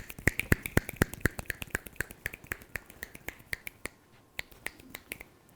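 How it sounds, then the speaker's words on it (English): About two dozen crisp finger snaps in a classroom, sharp and close, in a quick steady rhythm that slows and thins out near the end. "Count how many times I snap my fingers."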